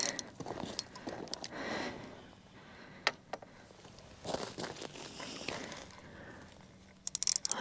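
A fishing reel's drag is adjusted while cod fishing, giving faint, scattered mechanical clicks and ratcheting amid quiet handling noise and soft rustles, with a sharper burst of clicking at the end.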